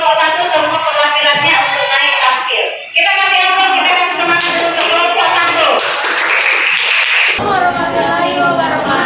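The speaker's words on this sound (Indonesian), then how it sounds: "Kita kasih aplaus, kita kasih semangat dulu ke kelompok 1." Classroom audience applauding a student group as it comes up to present, a dense burst of clapping running throughout, with some voices mixed in.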